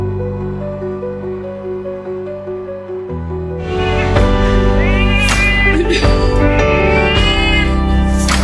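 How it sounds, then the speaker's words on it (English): A reunited cat meows excitedly in loud, close, repeated rising calls over background music, several drawn-out cries crowding the second half. "Her meows of excitement and headbutts were a testament to the unbreakable bond they shared."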